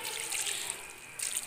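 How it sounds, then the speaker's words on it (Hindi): Water poured from a vessel into a pressure cooker holding carrots, a bright splashing trickle that runs steadily, eases briefly, then surges again, close and fairly loud with no talk. "इसमें मैं थोड़ा सा पानी डालूंगी"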